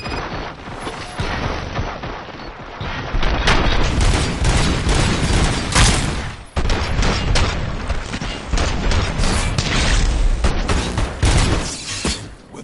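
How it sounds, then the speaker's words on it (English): Gunfire in a RoboCop video game, a dense, loud, continuous barrage of blasts and booming shots rolling on with few pauses, heavy and close throughout. "Fire at will."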